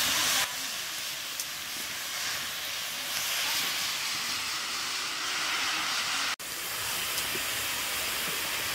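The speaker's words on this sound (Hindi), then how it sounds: "साग कढ़ाई में डाल लेते हैं।" Chickpea greens (chana saag) dropped into a kadhai on a lit stove give a loud, continuous close sizzle and hiss, interrupted once by a sharp click near the end.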